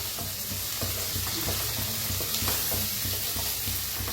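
Chopped onions and tomatoes fry and sizzle steadily in a pan for a green-masala egg curry, with a dense continuous crackle and periodic stirring scrapes close up; no voices.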